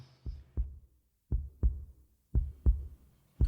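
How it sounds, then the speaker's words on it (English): A heartbeat opens a song recording: six deep, close thumps in three lub-dub pairs at an even, slow rhythm, with brief silence between, and the start of a seventh beat at the end. "the first sound that we hear is the heartbeat"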